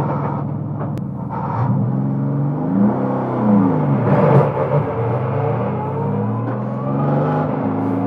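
A Mercedes-AMG GT4 race car engine rumbles up close after a start, its pitch rising and falling through several revs and throttle blips.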